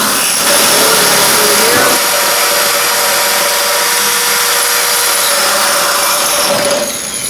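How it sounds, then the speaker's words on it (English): A 1 3/8 or 1 3/4 inch hole saw cores a hole through a plenum, a loud, sustained grinding whine that runs steadily for several seconds before tapering off. "we're using a 1 3/8 inch, or 1 3/4 inch hole saw, and we are going to core out the hole"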